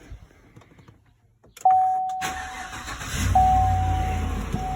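A Chevy Tahoe with a 5.3 engine, temporary hose fitted for a vacuum pump delete, cranks and fires up, then settles into a steady idle, close and loud, with a chime sounding from the cabin.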